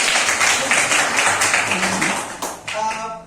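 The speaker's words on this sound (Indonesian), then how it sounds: "Tepuk tangan semuanya dulu." Steady applause from a class fills the room, continuous and fairly loud, tapering slightly near the end.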